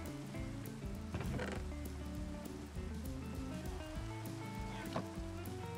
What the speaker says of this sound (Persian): صدا بارون حتی تو بازیش هم خوب